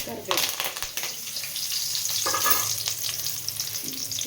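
Mustard seeds, cumin and curry leaves sizzle in hot oil for a brinjal curry, a close, steady crackling hiss that stays loud throughout, with no talking.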